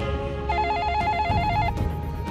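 An electronic telephone in a Taipower substation office rings with a rapid warbling trill for about a second, set against a steady background hum in the room.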